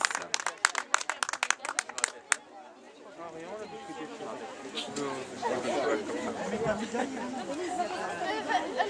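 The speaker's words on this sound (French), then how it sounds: "on l'applaudit bien fort" Audience at an equestrian show-jumping event applauding medal winners, a burst of sharp claps at first, then fading into a dense crowd murmur and chatter.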